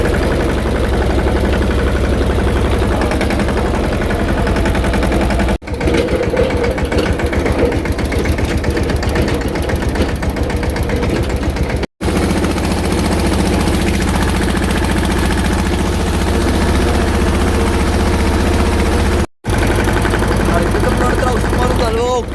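A farm tractor engine runs loud and close before pesticide spraying, a steady heavy idling throb with knocking vibration, cut by three brief dropouts, while a voice talks over it.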